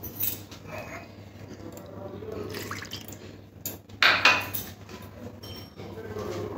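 A little water poured into a pressure cooker holding potatoes, a tomato and quartered aubergine, a soft trickle with metallic clinks and clatter of the pot, close by over a low steady hum.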